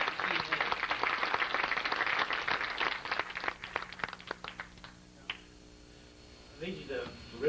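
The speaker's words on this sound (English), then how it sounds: "give them a big round of applause" Crowd applause for a team at a group event, dense and loud at first with many claps, then thinning out into scattered claps that fade toward the end.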